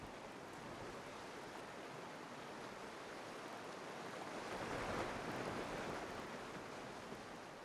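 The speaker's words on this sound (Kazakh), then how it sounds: "Көрдіңіз бе, сіз мына судың сарылын естідіңіз." A flooding river roars in a constant, dense rush of water that swells a little midway, steady and unbroken with no voices.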